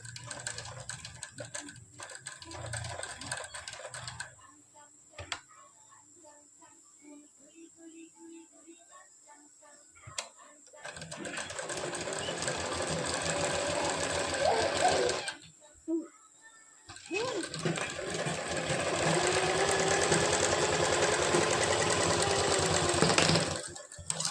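A sewing machine stitching a belt blouse runs in bursts: a stretch of rapid mechanical chatter early on, a quieter gap, then long, loud, steady runs of stitching close by, with some talk mixed in.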